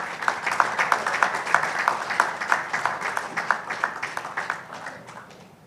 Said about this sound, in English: big round of applause for our minister also